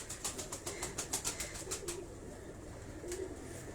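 A pigeon coos in a run of soft, rhythmic pulses through the first two seconds, then quiets before one more brief coo near the end, close by in a quiet loft setting.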